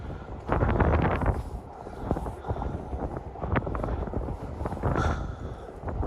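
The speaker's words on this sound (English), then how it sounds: "can you guys hear the wind?" Wind buffets an outdoor microphone at Coney Island during a winter Polar Bear plunge event, a steady loud rumbling roar with gusty swells throughout, no voices standing out.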